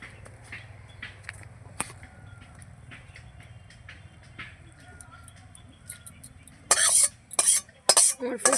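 A pan of river fish curry with onion is stirred, with soft scraping and clinks over a low background hum, then a burst of louder clattering strokes near the end.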